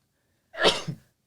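A single sharp sneeze, close and fairly loud, bursting out once and fading within about half a second in an otherwise quiet room.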